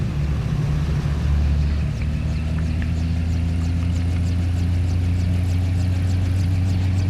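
A car engine runs as the vehicle moves, giving a close, unbroken low hum with steady road rumble throughout.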